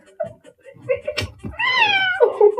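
A kitty lets out one long, loud, rising meow close by, preceded by brief rustling and a few thumps, with someone talking faintly around it.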